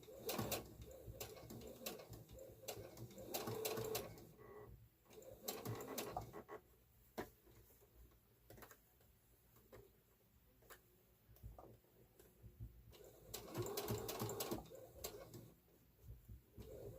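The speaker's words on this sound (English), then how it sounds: "Just going to stitch real close to the edge on the top part of the binding." A sewing machine stitches close to the edge of the binding on a girl's apron in rapid whirring bursts, loud near the start and again later, with quieter ticking gaps between runs.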